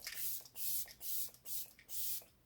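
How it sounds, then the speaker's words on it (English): An e.l.f. setting mist bottle spritzed near the face, giving four or five short, soft airy sprays in a quick regular rhythm, quiet and close with nothing else heard. "I'm going to take my e.l.f. setting mist again and give it one more spritz"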